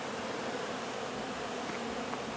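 Honey bees swarm and buzz around hive comb during a brood-frame inspection, a steady, dense drone that holds throughout at close range with no talking.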